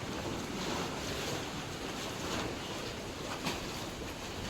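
Sea waves crash against rocks on the Konkan coast, a steady, fairly distant roar of surf mixed with wind noise and one brief louder splash.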